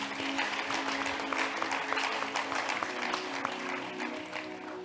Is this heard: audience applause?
yes